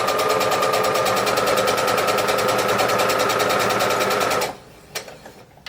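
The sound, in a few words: sewing machine stitching forward and back stitch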